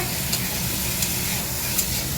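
Potatoes fry in spices in a pan, giving a continuous close sizzle with a few light stirring scrapes.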